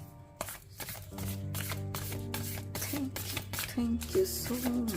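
Tarot cards shuffled in quick, papery riffles over a steady sustained musical backing, close and clear.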